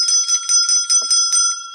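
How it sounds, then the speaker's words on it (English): A small bell, like a bicycle bell, is rung rapidly about seven times in a steady, bright trill. It is loud and close, with no talking. "So are bells."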